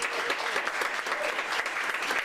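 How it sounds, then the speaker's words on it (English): A science pub crowd in Anchorage claps steadily in appreciation, a continuous, even burst of applause filling the room at moderate loudness, with no voices rising above it. "So if you guys wouldn't mind giving these guys a round of applause."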